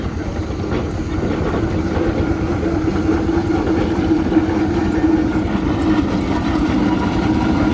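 A steam traction engine or road locomotive at the Gloucester Vintage & Steam Extravaganza gives a loud, steady rumbling drone with a low chugging hum that continues throughout, with faint crowd noise underneath.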